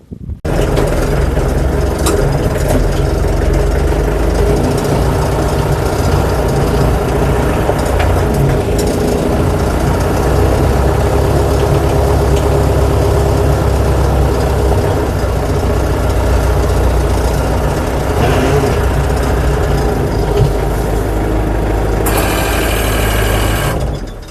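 Scout TY-404 C tractor engine running steadily while driving in a field, a loud continuous low diesel drone with mechanical rattle throughout, close and unbroken.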